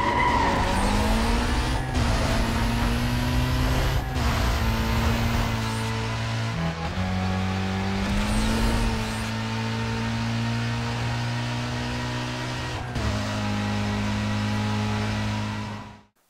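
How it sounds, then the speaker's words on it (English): A BMW M3 GTR racing car with a straight-cut gear racing transmission, its loud high-pitched mechanical whine rising and falling through several gear changes over a strong engine note, close and continuous, with brief tyre squeal and no talking. "that sound came from the straight-cut gears and the racing transmissions they used"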